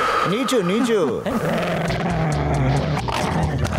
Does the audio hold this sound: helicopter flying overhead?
no